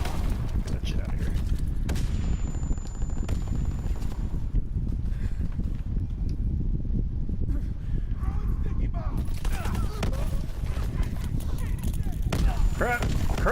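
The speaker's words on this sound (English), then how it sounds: "There's just fucking grenades everywhere" Grenade blasts and gunfire rattle through a Call of Duty: WWII multiplayer hardpoint match, a dense, continuous barrage of booms and shots with a loud speaking voice over the top.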